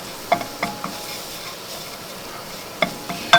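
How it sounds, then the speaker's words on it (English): Flour being stirred into a roux in a pan for lobster mac and cheese, a soft steady sizzle with several sharp scraping and clinking strokes of a utensil against the pan. "we're just going to mix all this up into a nice little roux"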